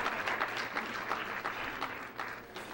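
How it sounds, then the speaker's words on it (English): Sustained applause and cheering for a bridal party at a Bahamas wedding ceremony, a steady wash of clapping from a large congregation with bursts of louder claps, continuing for the whole stretch. "Let's give them another cheer."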